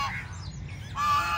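Ducks at a lake park give short, nasal honking calls, a couple of quick calls at moderate distance, over quiet outdoor background.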